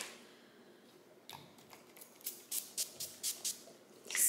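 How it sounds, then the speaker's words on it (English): A series of short, hissy spritzes from a NYX Dewy Finish setting spray bottle misting onto a face, about seven quick bursts in a rhythmic run, close by after a quiet start. "spray all these sprays on my face to keep it moisturized"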